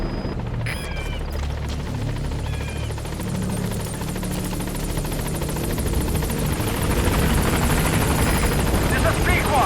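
Pequod, the support helicopter in Metal Gear Solid 5: The Phantom Pain, arrives at a landing zone. A steady rotor drone fills the scene and grows slightly louder toward the end as it closes in, with brief radio-like beeps early on.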